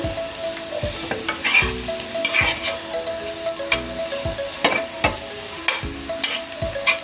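Carrot and potato bhaji fries in a pan and is stirred repeatedly, producing a loud, steady sizzle broken by regular scraping strokes of the spatula about every second.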